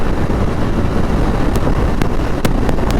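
A Hero Karizma motorcycle ridden fast in fifth gear, its engine and rushing wind forming a loud, steady roar throughout with a few brief clicks.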